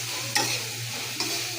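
Rohu fish roe is added to spiced masala frying in a pan, with a steady sizzle and two sharp scraping stirs of a spoon close up.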